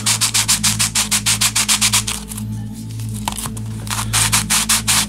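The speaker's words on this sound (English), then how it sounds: "Just so that these are level as well, I'll be sanding a bit off of that," Hand sanding of cast Hirst-mold bricks to level them, rapid rhythmic scraping strokes that pause midway and then resume, close and loud over a low steady hum.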